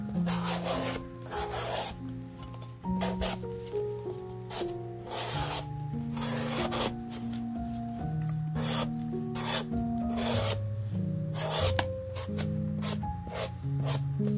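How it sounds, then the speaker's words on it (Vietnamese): A vegetable peeler shaves thin strips of skin off an eggplant in quick, repeated rasping strokes that continue steadily beneath melodic background music. "Mình bào vỏ cà tím. Các bạn bào mỏng thôi nha."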